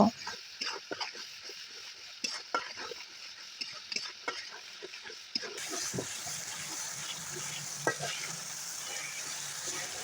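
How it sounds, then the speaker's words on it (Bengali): Halim spice mix with ginger-garlic paste fries in a pot as a spoon scrapes and stirs, a soft sizzle under irregular clinks and scrapes that turns into a steadier, brighter hiss midway through. "মশলাটি তিন থেকে চার মিনিট ভালোভাবে কষিয়ে নেব"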